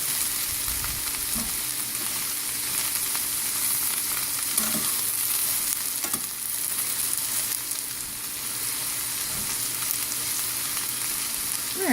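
Broccoli, snow peas and greens stir-fried for veggie lo mein, a loud, continuous hiss of hot oil with occasional soft tossing scrapes, close and steady throughout.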